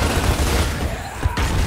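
Gunfire in the video game Gears of War: a dense, loud burst of shots fills the clip, with a sharp crack near the end before the firing carries on.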